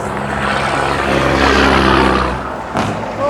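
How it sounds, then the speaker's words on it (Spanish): A helicopter flies overhead above a roadway, its broad, rumbling drone swelling to a peak and then easing off, heard from below with no speech. "Va un helicóptero en la parte de arriba."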